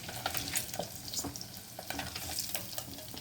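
Eggs frying in hot oil in a pan, a steady close sizzle with crackling spits and occasional stirring scrapes throughout.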